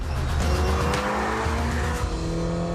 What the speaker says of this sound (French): notre V8 installé à l'avant est un tout nouveau moteur biturbo